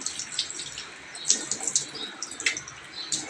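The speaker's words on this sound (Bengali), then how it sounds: "আর এখন হাতটাকে ধুয়ে নেব।" Running water from a tap while hands are washed in a home kitchen, a steady faint hiss with light splashes and drips, no voices.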